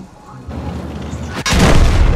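A tank cannon shot in World of Tanks lands as a sudden loud blast, then a sustained roaring rumble over a lower background of earlier battle noise.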